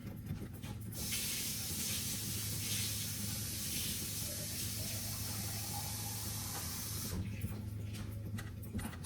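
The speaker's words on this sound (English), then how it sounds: "I will fill this jar with water" Tap water gushes steadily into a jar in a home kitchen while a bottle gourd kofta curry simmers, a loud continuous hissing spray lasting about six seconds before it cuts off.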